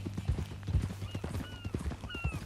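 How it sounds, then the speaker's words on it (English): Horse hooves clip-clop in a steady walking rhythm in Red Dead Redemption 2, close and fairly loud, with faint harness jingles and brief tonal calls above them. "That new horse?"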